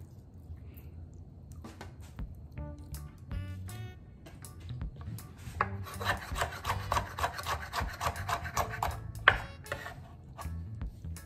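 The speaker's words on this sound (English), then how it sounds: "I'm just coring up my fish right now so it can absorb the season easily" A knife scoring raw fish for a Jamaican steamed fish dish, making repeated rhythmic scraping and rasping strokes, close and fairly quiet, speeding into a dense run of short cuts in the middle.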